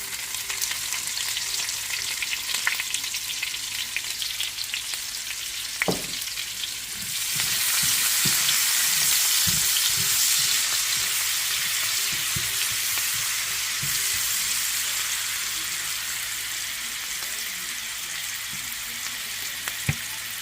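Onions sauté in rendered bacon fat with a steady broadband sizzle that swells louder partway through, punctuated by occasional utensil knocks and stirs in the pan; no voices.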